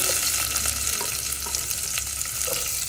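Mustard seeds, garlic and onion fry in hot tempering oil, giving a continuous dense sizzle with scattered crackles and pops, steady and fairly close, without voices.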